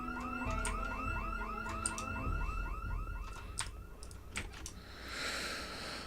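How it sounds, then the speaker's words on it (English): An alarm goes off indoors, a repeating warbling electronic tone cycling rapidly for a couple of seconds, then fading into a harsher broadband hiss with scattered clicks, loud and close. "The alarm just went off."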